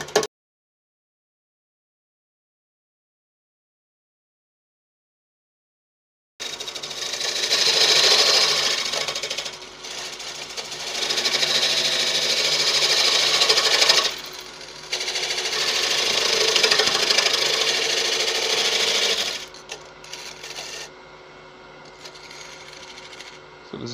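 A wood lathe spins an off-balance Balinese teak vase blank for a winged vase. After a silent start the motor kicks in with a loud, steady whirring hum that dips briefly midway and fades near the end.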